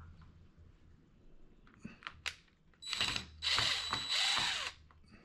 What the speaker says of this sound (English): I gotta get that screw undone.